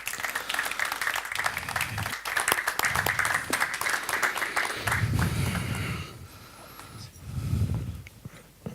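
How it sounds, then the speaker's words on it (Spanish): An audience at a tourism seminar debate panel applauds to welcome a speaker, a dense, fairly steady round of clapping that thins out toward the end, with a few low voices underneath. "para el que pido un fuerte aplauso para recibirlo"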